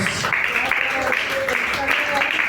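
Theatre audience keeps up continuous applause for the production crew after a stage show, a dense wash of clapping with a speaking voice over it.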